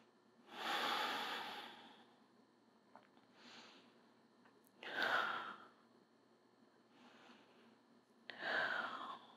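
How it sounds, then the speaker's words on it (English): Slow, deep breaths during a prenatal yoga session, three long audible exhalations spaced a few seconds apart, close and fairly soft, with quiet pauses between them and no talking. "Breathing in and out."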